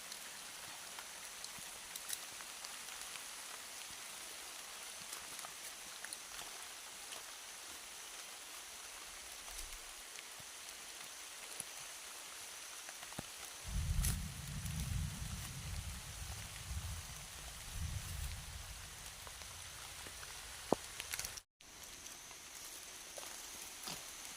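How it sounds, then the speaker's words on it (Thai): Steady rain patters continuously over a long stretch, with a heavier rumbling patch midway, no voices. "ตอนนี้ฝนตกเนาะ"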